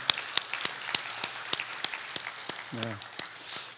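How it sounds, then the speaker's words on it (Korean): A church congregation at a Sunday service in Bellevue claps in welcome for returning visitors, scattered moderate applause with distinct individual claps and a brief voice partway through. "큰 박수로 우리 한번 환영하면 좋겠습니다"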